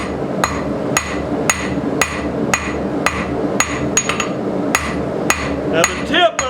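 Hammer forging a round punch from a steel jackhammer bit, drawing it out square on the anvil: a dozen loud, sharp metallic blows at a steady rhythm close by, ringing over a constant low background.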